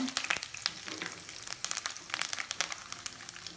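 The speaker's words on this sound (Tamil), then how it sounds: "இப்போ வானிலையில் எண்ணெயை ஊற்றி கருவேப்பிலை போட்டுக்கலாம்." Curry leaves and dried red chillies frying in hot oil for a prawn gravy, a steady crackling sizzle with sharp pops and spits throughout, close up and alone.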